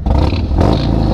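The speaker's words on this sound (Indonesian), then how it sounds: "Sekarang gua bisa geber-geber." Harley-Davidson motorcycle engine revved hard on a city street, loud, rough and close, with a brief dip before the throttle surges again.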